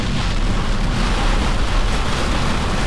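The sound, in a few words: heavy rain storm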